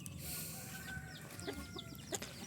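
Hens clucking on a farm, with short, soft clucks scattered over steady low rustling and background noise. No voices are heard.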